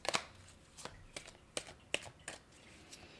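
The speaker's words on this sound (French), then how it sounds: "on va aller chercher deux autres cartes" Playing cards slapped and drawn from a deck during a tarot-style reading, a handful of crisp, separate card snaps spaced irregularly, close and fairly quiet with no talk.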